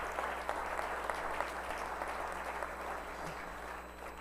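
An audience at a downtown partnership annual meeting applauds the crew, a steady wash of clapping heard at a distance, fairly faint and unbroken.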